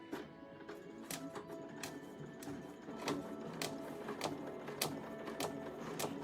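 A sewing machine needle stitches slowly through plastic for a quilting design board, each pass a faint, crisp pop repeating at a steady pace over the machine's low mechanical whir.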